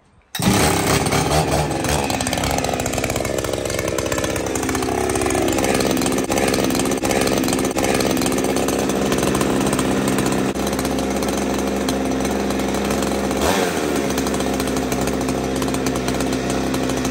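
A Husqvarna 288 chainsaw with a problem being tuned on the high jet, held wide open at full throttle; one loud, steady high-revving engine drone that shifts slightly in pitch and runs continuously, with no voices.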